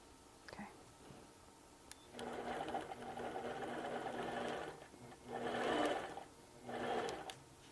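A sewing machine stitches in three bursts, one long run followed by two shorter ones, each a close, buzzing rattle of the needle with brief pauses between; a soft voice murmurs faintly around them.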